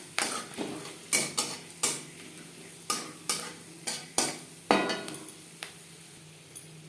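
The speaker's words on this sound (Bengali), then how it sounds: "ফোড়নে দিয়ে দেব এলাচ, লং, দারচিনি, যেটা আমি থেতো করে নিয়েছি।" Crushed cardamom, clove and cinnamon hit hot oil in a wok just used for frying fish, giving a steady soft sizzle broken by about a dozen sharp spatula clinks and scrapes in an uneven rhythm.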